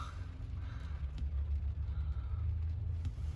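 A small Danube river motor ship gives a steady low engine drone as it passes at a distance outdoors, the rumble continuous and even throughout.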